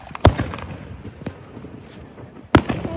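Canada Day fireworks bursting, two sharp loud booms about two seconds apart with a fainter pop between them and crackling trailing off in the open air.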